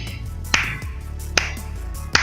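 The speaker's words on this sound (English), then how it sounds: "Let's do a slow clap." Three slow, evenly spaced hand claps ring out sharply, nearly a second apart, over a low steady hum during a UFC 214 post-fight reaction.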